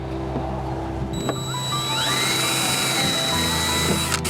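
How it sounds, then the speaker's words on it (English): A power drill whirs loudly, its pitch rising as it bores through the metal side of a Sprinter van, then winds down with a short clatter at the end. "drilling a gaping hole on the side of the van is a little nerve-wracking"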